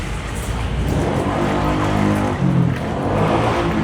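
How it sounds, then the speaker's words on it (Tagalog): A Toy Story remote control toy car driving, its small electric motor giving a steady buzzing whir that swells and dips slightly as it moves, close and fairly loud with no talking. "hindi pa rin nakakasawang maglaro ng mga remote control na sasakyan."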